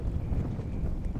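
Wind buffets the microphone on a boat fishing off a windy reef front, a brief, steady low rumble with no talk.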